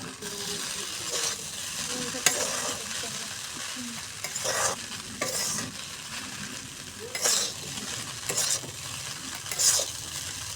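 Pasta with mixed vegetables and egg being stirred in a pan, steady scraping and sizzling strokes repeating close by, with occasional louder clinks of the utensil against the pan.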